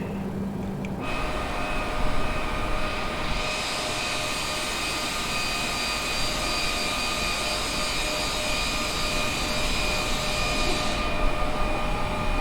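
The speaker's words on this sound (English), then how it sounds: "OK, podvozok." Inside an airliner on approach to JFK, a steady loud cabin roar of jet engines and airflow with a faint tonal whine, continuous throughout with no talk.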